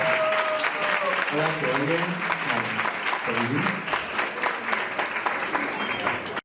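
An audience at a science comedy monologue night applauds steadily and loudly throughout, a dense wash of clapping while someone briefly speaks over it.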